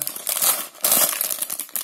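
Crinkling of plastic parts bags from a Lego BrickHeadz Dragon Dance Guy set 40354 being handled close up, two bursts of rustling with brief sharp crackles in between.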